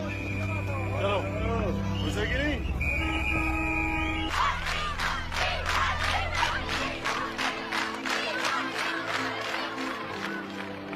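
Large excited crowd greeting Imran Khan in Pakistan, a dense roar of shouting voices that swells into rhythmic chanting and cheering, loud and close, after a stretch of tonal music.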